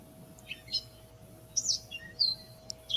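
Several small birds chirp in short, scattered bursts, fairly close, over a faint steady hum.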